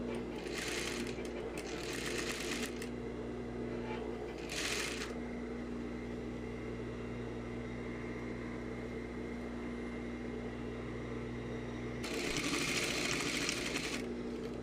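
A sewing machine stitches tulip skirt lining fabric in several loud, rapid bursts, separated by quieter stretches of a steady mechanical hum.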